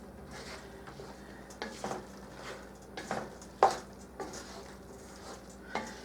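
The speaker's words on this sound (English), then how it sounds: "Get this all mixed together really good" Turkey and vegetable stuffing for peppers, with Italian seasoning, being stirred in a bowl or pan: soft squishy mixing with scattered clinks and scrapes of a utensil, no speech.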